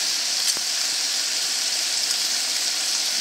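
Bacon fries in a cast iron pan at a front-country campsite, giving a steady, close, bright crackling sizzle that holds evenly throughout with no talking.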